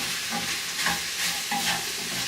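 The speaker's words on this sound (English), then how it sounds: "stir all this up" Chilli sizzles loudly in a hot pan while it is stirred, a steady frying hiss broken by a few scraping strokes of the spoon.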